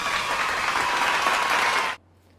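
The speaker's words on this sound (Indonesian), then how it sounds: "Kita berikan tepuk tangan." Children and adults at a Catholic SEKAMI children's mission gathering at FX Kuta parish clap together in a dense, even burst of applause that stops abruptly after about two seconds.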